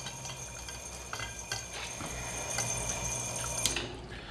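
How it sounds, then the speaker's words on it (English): A jet bottle rinser of a Medussa bottle filler system sprays water into a crate of beer bottles, making a steady hiss and splash with slight bursts, close and continuous. "So you just take the crate, load it right on there, hit the button. As you can see, it rinses the bottles really well."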